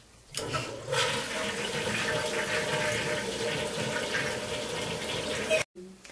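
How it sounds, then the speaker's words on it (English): A flush toilet empties with a loud rushing gush after the knob is pulled, then swirling, draining water for several seconds before it stops abruptly with a click. "with a simple pull of this knob, some of the water is used to carry away the waste"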